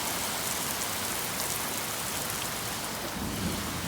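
Torrential rain pours down on a driveway during a thunderstorm, a dense, steady roar of falling water with a deeper rumble of thunder swelling toward the end.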